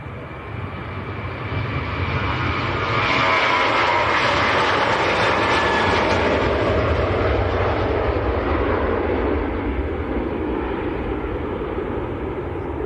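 A Jet2 airliner departs Manchester Airport for Dalaman in Turkey. Its engines roar steadily and loudly, swelling as it passes and then holding a broad, continuous rumble with no talking.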